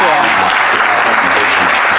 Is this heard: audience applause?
yes